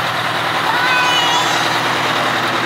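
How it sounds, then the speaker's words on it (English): A Pierce Javelin pumper fire engine idles with a steady broadband diesel rumble and hiss, loud and close, continuous throughout with no pauses. "did you hear the fire truck?"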